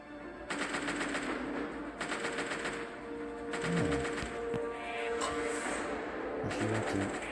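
Rapid automatic gunfire in the space game Galaxy Reavers, several sustained bursts of fast mechanical shots separated by short pauses, loud and close, with faint game tones beneath.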